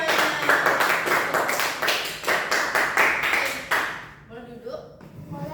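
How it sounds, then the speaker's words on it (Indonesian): A classroom of students claps together in a dense burst of applause during a microteaching lesson, loud and steady for about four seconds before fading into scattered voices. "Oke, tepuk tangan untuk semuanya."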